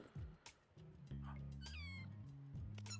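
Cat in No More Heroes giving several close, clear meows, one longer and drawn out, between short bursts of other game sounds; a person talks faintly in the background.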